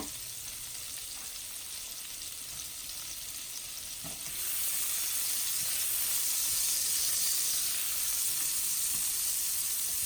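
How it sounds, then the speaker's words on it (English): Vegetables sauté in a pan with bacon drippings for shrimp and grits, giving off a loud, constant hiss of sizzling that swells stronger halfway through, with no voices. "I'm going to go ahead and saute up my vegetables a little bit before I add my shrimp"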